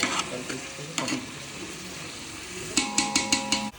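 Chicken biryani masala sizzles in a pan while a spoon stirs and scrapes it, with a few sharp clinks early on and a quick run of rhythmic metallic scrapes near the end, close and without talk.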